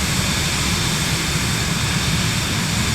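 Steady, loud aircraft engine drone from a plane cruising in Microsoft Flight Simulator 2024, a continuous broadband roar with no break and no voices.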